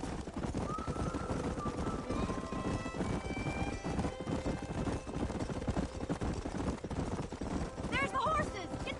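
Galloping horses with rapid clip-clop hoofbeats and a neigh in the Red Dead Redemption video game, running continuously under music and voices.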